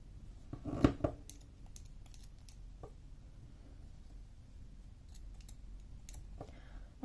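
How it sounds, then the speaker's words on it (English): Blunt scissors snip crochet yarn in a few sharp close clicks, with a louder cut early on, followed by light handling sounds and scattered small clicks. "My scissors are horrendously blunt"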